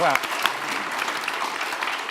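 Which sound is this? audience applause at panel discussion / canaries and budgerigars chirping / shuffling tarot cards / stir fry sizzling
audience applause at panel discussion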